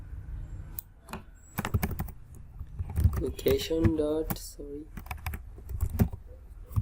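Code is typed on a computer keyboard while building a React table app, with quick bursts of close key clicks alongside a person speaking.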